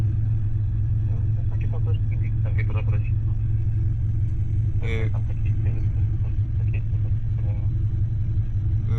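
A used car with heavily rusted bodywork idles with a steady low engine rumble throughout, while people talk over it nearby.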